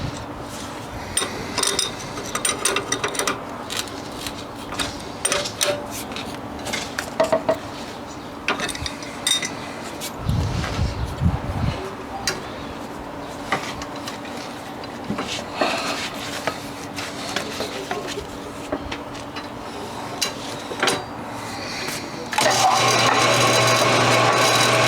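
A Rann Mayer carpenter lathe with newly laced belts runs in reverse, giving a steady mechanical hum with rubbing, rattling and knocking from the gearing and belt, close and continuous, growing louder and denser near the end.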